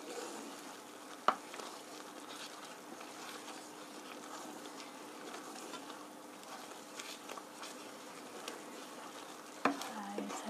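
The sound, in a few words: gently stirring fusilli in cream sauce with parmesan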